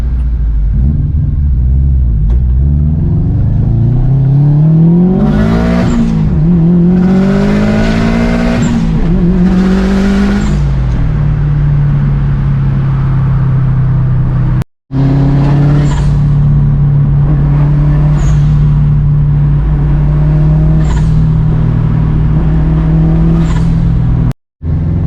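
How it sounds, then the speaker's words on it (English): Subaru WRX STI exhaust note from inside the car while driving: a loud, continuous rumble that rises and falls through several revving pulls, with brief gear-change dropouts and no talking. "Exhaust note that's going on"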